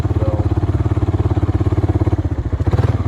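A four-wheeler ATV engine idles steadily in a corn field, its low, even chugging pulse loud and close throughout with no talk over it.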